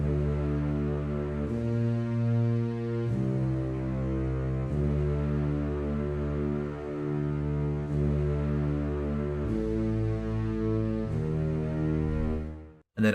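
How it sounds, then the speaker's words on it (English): Deep sustained bass line from the Avengers Endgame theme arranged on guitar, slow held low notes changing every couple of seconds, steady and full, with no talking. "And then last but not least, the bass section."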